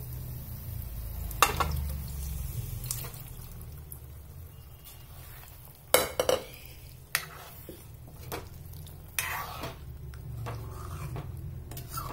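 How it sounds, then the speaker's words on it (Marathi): Cooked chicken is stirred into oil-glossed masala in a pan for a village-style chicken curry, with intermittent spoon scrapes and clatters over a low, steady sizzle. "असं याला पूर्ण आपण मिक्स करून घ्यायचा मसाला वगैरे."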